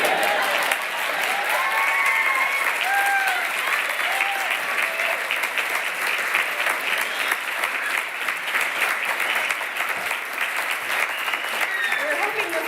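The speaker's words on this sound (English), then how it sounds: "People start clapping." Sustained crowd clapping at a medical school Match Day ceremony, continuous and fairly loud throughout, with scattered voices and cheers mixed in.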